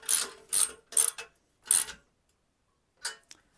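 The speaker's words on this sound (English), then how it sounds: "Let's get a ratchet and get this one in." A ratchet wrench clicks through quick bursts while tightening a bolt on a Corvette C1 front grille, four close rapid ratcheting runs followed by a pause and a final short burst.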